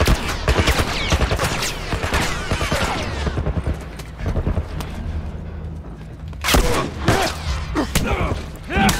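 Automatic gun mounted on a truck in The Last of Us firing loud rapid bursts, with heavy thuds and impacts; bursts stop and restart, and someone talks briefly between them.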